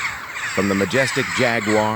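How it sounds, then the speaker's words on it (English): Croaking calls of a long-billed toucan in the Amazon rainforest, heard under a narrator's voice that talks over nearly the whole stretch. "the call of the long-billed toucan"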